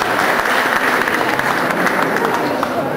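A crowd at an outdoor Christmas market applauds in a steady, dense wash of clapping, with a voice talking over it.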